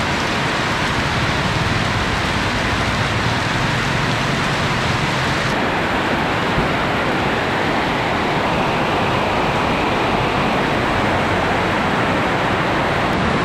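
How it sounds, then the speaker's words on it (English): Heavy water gushes from a drain pipe during a downpour in Bangkok, a dense, continuous roaring rush like pouring rain, loud and unbroken throughout. "You can see the amount of water gushing out from that drain pipe."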